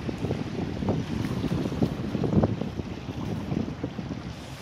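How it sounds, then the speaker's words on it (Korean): Strong sea wind blows on a coastal road by the water at Masan, a loud, continuous gusting rumble buffeting the microphone with no voices heard. "바람이 너무 많이 불어요 지금."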